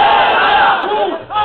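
Crowd at a Pakistani political rally chanting slogans in unison, a loud, dense roar of many voices with rhythmic shouted phrases, sustained throughout and dipping briefly near the end before surging again.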